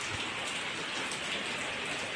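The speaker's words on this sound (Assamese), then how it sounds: "এতিয়ালৈকে বৰষুণটো এৰি দিয়া নাই" Steady, dense rain falling continuously on surfaces outdoors during a prolonged evening downpour, a constant even hiss with no voices.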